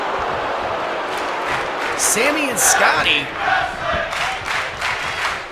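A wrestling arena crowd chants in rhythm for tag team wrestling, loud, rising and falling, with cheers swelling around it while a commentator talks over the noise.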